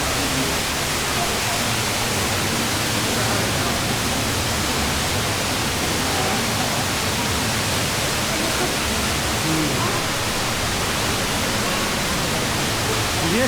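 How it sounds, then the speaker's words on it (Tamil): A large underground waterfall inside Niagara Cave roars as a constant, dense rush of falling water, loud and unbroken, with faint voices barely surfacing beneath it. "என்னடா இவ்வளோ பெரிய ஃபால்ஸு, கீழே இவ்வளோ தண்ணி ஓடிட்டுருக்கு"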